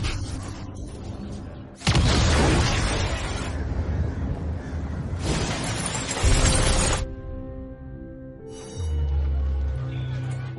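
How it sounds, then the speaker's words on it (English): A sudden loud film explosion in an abandoned building: a blast followed by a long rumbling roar and debris-like crackle, then a second surge, with tense music droning around it. "Film opens with a shootout action of a mysterious group in an abandoned building, and then ended a sizable explosion."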